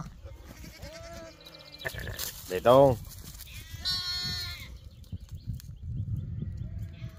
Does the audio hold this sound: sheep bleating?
yes